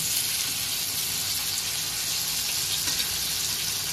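Surmai fish steaks shallow-frying in a pan for a Bengali-style fish curry, giving a steady, close, continuous sizzle with crackling hiss throughout and no talk.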